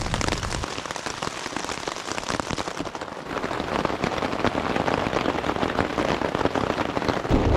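Heavy downpour drumming steadily on a tarp shelter, a dense, loud, unbroken hiss of raindrops close overhead lasting throughout, with no voices.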